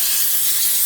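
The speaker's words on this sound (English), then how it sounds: "I'm just gonna spray with some olive oil and Pam" Olive oil and Pam cooking spray misted from a can into silicone egg bite molds for an air fryer, a steady, loud, close hiss that runs without a break.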